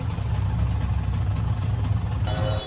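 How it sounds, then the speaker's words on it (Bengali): An LML Vespa scooter engine idles steadily just after starting, a close, low, even putter that keeps going without a break and with no talk over it. "এই গাড়িটা স্টার্ট হয়ে গেছে।"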